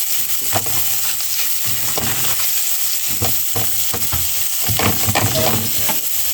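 Garlic frying in oil in a pan, a dense continuous sizzle with bursts of crackle and occasional stirring scrapes, loud and close with no talk.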